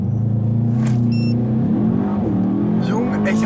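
A Mercedes E63 S AMG engine roars steadily at close range, pitch climbing and wavering as it pulls hard, with loud road rumble throughout.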